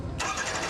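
A hot rod car engine fires up, a sudden broadband roar bursting in after a brief low rumble and holding as a loud, close idle.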